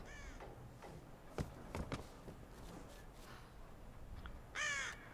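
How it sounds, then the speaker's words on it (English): Crows caw in the video game Tomb Raider (2013), a harsh call near the start and a loud, close caw near the end, with scattered taps and footstep-like knocks between them. "Birds."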